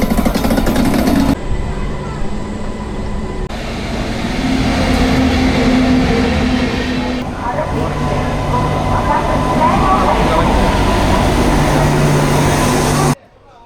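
A MEMU commuter train at Secunderabad station on a hot day, steady loud rumble of rolling stock and platform noise throughout, with a voice talking over it and an abrupt cut near the end.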